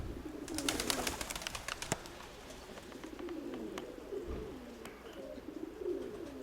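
Pigeons coo in a loft, soft low rolling calls repeating under a light rustle of wings and feet, fairly close but quiet.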